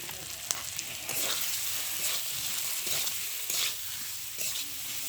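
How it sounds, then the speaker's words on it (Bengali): Boiled potatoes with salt and turmeric sauté in spiced masala in a pan, a steady close sizzle broken by repeated scraping stirs of a spatula. "সিদ্ধ আলুটা আর একটু সময় কষিয়ে নেব।"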